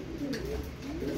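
A pigeon or dove coos softly in a low, rolling call at moderate distance over a faint background hum.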